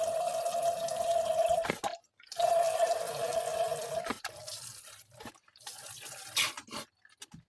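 Water poured over a LEGO house in a simulated hurricane test, splashing and dripping in sustained bursts with brief silent breaks, then scattered irregular splashes toward the end; no talking.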